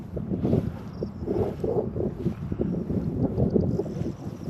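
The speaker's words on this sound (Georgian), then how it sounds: "გვერდით ქარი გვაქვს." Crosswind gusts outdoors, in open country used for training hunting dogs on quail, produce a continuous low rumbling buffet against the microphone that swells and eases unevenly throughout, with no voices heard.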